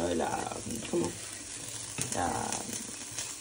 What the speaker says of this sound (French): je suis en train de faire revenir les oignons finement émincés avec les allumettes de jambon